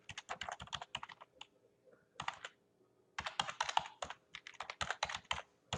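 Typing on a computer keyboard, bursts of quick, close key clicks separated by short pauses, fairly quiet and without speech.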